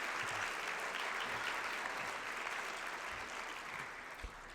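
Even, continuous applause from the audience at a college foundation scholarship luncheon honoring Pat and Craig Rupert, holding at a steady level with a small bump at the end.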